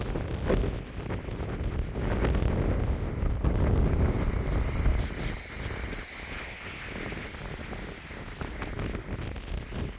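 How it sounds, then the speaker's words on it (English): Strong wind roars across the open Hummocks Trail near Mount Saint Helens, Washington, buffeting the microphone with steady low rumbling gusts throughout, loud and close with no speech. "That's the wind from up there."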